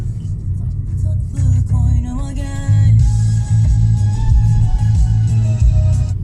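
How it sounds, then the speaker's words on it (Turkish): Factory sound system in a 2023 Toyota C-HR 1.8 Hybrid playing music inside the cabin, loud and steady with strong bass for several seconds. "Ses sistemini de şöyle göstereyim küçük"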